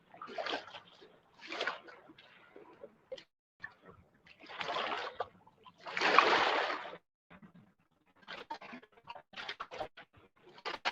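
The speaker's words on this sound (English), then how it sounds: "Sounding waves breaking on these rocks." River waves splash and slosh against rocks in repeated irregular bursts, close and moderately loud, with brief quiet gaps between surges.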